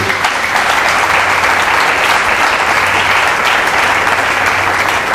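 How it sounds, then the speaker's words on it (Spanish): Loud, dense applause from a church congregation at an evening conference fills the space, many hands clapping steadily without pause and no speech over it. "Démosle un aplauso a ese Cristo bello."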